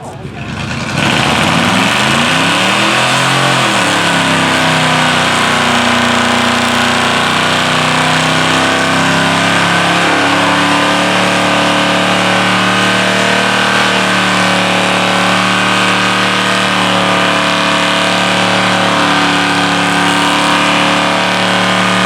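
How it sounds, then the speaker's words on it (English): A 1995 rear-wheel-drive Cadillac with an LT1 350 V8 revs for a burnout. The engine climbs quickly from a start and then holds a loud, sustained high-rpm roar throughout. "I chose this Cadillac 95 Caddy because it was rear-wheel drive and it has an LT1 in it, 350, and she will smoke the tires off."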